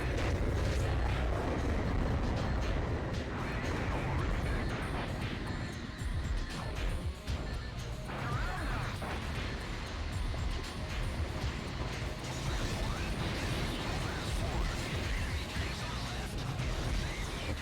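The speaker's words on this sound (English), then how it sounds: "Time to carpet bomb." Repeated explosions from carpet bombing in the mecha video game Gungriffon Blaze, with dense rumbling blasts and debris continuing loudly for the whole stretch, under some talk.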